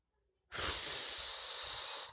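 One long, deep breath drawn in through the nose during a breathing exercise, a steady close hiss that starts abruptly and holds at even loudness with no talking.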